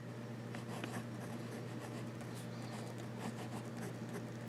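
Faint, close scratching of an old new-stock German student fountain pen nib moving across paper, soft irregular strokes over a steady low hum.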